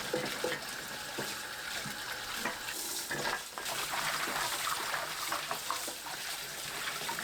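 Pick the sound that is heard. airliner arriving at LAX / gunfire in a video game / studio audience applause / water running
water running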